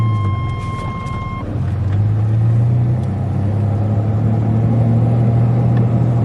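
Car driving through the Onawa, Iowa dragstrip racing complex at sunset, a steady low engine and road rumble running continuously throughout, with a brief tonal beeping at the very start.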